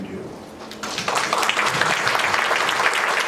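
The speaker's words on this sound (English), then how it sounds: "take a round of applause for the incredible amount of work that you do" An audience applauds Michigan Works staff at an awards event, clapping swelling after about a second into a sustained, dense round of applause.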